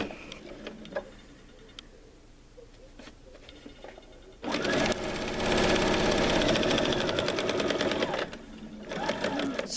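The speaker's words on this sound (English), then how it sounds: "We're going to sew 1/4 of an inch off of the edge all the way around. And I'm using a straight stitch." A sewing machine runs a straight stitch along the edge of a kitchen towel, first as a few slow, separate clicks, then in a loud, fast, steady whir for several seconds before it slows to ticks again.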